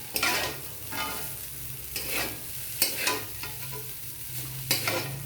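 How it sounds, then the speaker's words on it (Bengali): Chow mein is stirred and tossed in a frying pan over a steady sizzle, with a handful of louder scraping strokes spaced through the stretch and no talking. "অল্প অল্পভাবে নেড়ে নেব, তাহলে সব চাউমিনের গায়ে সুন্দরভাবে লেগে যাবে"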